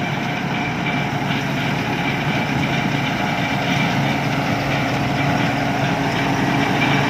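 A Thai-built combine harvester from Bang Li workshop runs with a steady, loud engine drone that holds constant throughout, with no voices.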